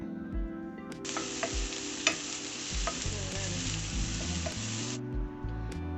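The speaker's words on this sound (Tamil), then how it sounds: "சேர்த்து நல்லா வதக்கி விட்டுக்கலாம்." Chapathi kotthu masala with chilli powder and salt sautés in a pan, a broad hiss of frying rising for several seconds, punctuated by sharp spatula knocks and scrapes against the metal.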